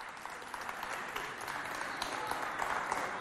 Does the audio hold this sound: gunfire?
no